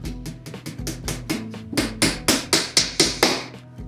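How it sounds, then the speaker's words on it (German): A hammer driving a nail in a workshop, struck in a steady run of about fifteen sharp, close blows that grow louder and more evenly spaced toward the end. "Den Nagel reinhauen."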